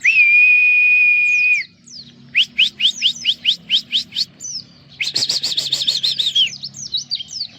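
A young wild white-eye sings up close: a long clear whistled note, then a rapid series of bright chirps and a fast warbling trill.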